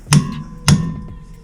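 Two sharp metallic hammer blows about half a second apart, driving a new toilet flange down over a broken 12-inch flange, close and ringing briefly.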